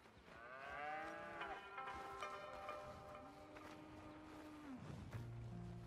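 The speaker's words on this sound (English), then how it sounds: "Here's the cows." Cattle low and moo repeatedly on a ranch in the Western game Red Dead Redemption 2, drawn-out tonal calls in sequence, fairly close, with a longer sustained moo near the end.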